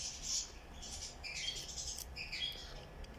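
Nestling chicks of birds of paradise give faint, high, thin chirps and squeaks in short clusters, close but quiet over a soft background hiss.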